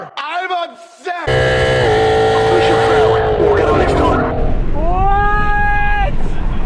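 A very loud Ford Mustang GT engine roars and rumbles, its pitch climbing sharply in a hard rev near the end, with voices talking over it.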